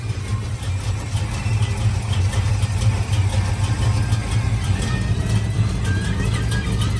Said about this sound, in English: I forgot to mention it cranks right on too